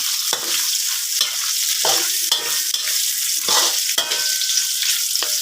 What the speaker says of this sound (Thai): ผัดปลาเส้นให้หอมก่อน